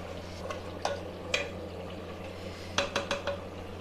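Mutton pieces are being fried with spices in a pot for mutton kunna, with a soft sizzle underneath and several sharp scrapes and clinks of a spoon against the metal pot, close and moderately faint.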